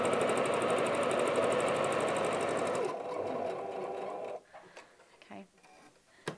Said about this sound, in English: So I'm just gonna put it straight under the machine.